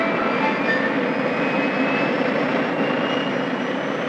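A 1959 Pan American jet aircraft engine roars in a loud, steady, continuous rush with a high whine running through it.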